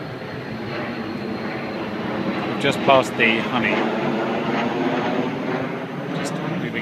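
A jet aircraft drones steadily overhead above a Swiss countryside walk, a continuous broad roar that persists under brief speech.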